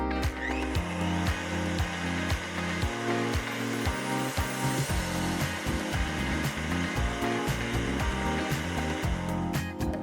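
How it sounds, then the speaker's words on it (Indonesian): A stand mixer whirs continuously at close range while mixing a cheese filling, its motor hum layered with rhythmic knocking from the beater and bowl. "Langsung kita pasang di standing mixer."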